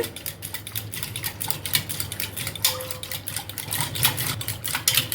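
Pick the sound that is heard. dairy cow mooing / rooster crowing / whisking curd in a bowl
whisking curd in a bowl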